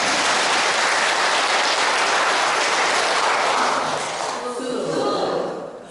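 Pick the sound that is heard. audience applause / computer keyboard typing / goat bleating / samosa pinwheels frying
audience applause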